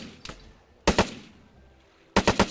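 Gunfire in the video game ARMA 3 during a hostage-rescue mission: isolated loud shots and quick double and triple bursts, sharp and close, separated by quiet stretches.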